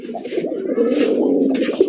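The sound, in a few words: pair of Deshi Bombay pigeons cooing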